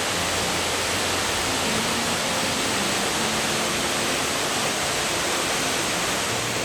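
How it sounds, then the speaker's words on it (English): Lower South Falls in Oregon roars steadily and close by, a dense broadband rush of falling water that fills the whole stretch with no pauses and no voices. "This is a beautiful waterfall."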